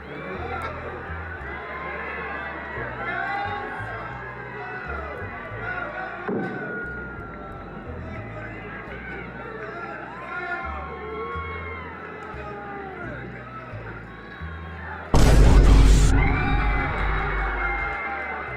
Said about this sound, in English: let's see a huge firework explosion, shall we?